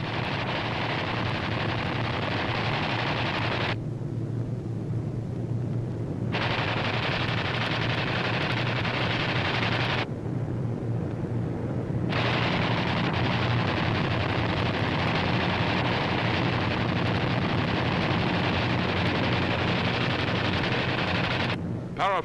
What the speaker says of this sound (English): Parafrag and delayed action bombs are dropped on the airfield and the dispersal areas.